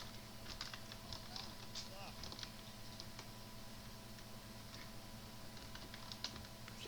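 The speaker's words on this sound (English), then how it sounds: "I'm so tired of having to do this with the keyboard." Rapid clicking of keys on a computer keyboard while steering a car in a driving game, close and continuous with soft clatter under faint background hum, no clear talk.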